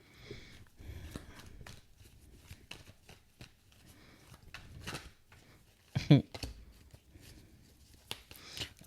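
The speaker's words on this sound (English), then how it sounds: "I've actually been doing fairly well with shuffling with my left hand." Tarot cards are shuffled with the left hand in quiet, close, irregular bursts of riffling and soft slaps, separated by brief pauses, with one sharper snap near the end.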